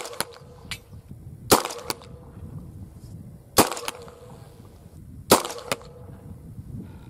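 Slug shots fired into a half-inch plywood backstop ring out as three sharp, loud cracks spaced about two seconds apart, each with a brief woody impact and short echo, over quiet outdoor background.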